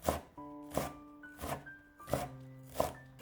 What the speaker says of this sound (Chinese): 先切成细丝，尽量切细一些， 再改刀切成小碎丁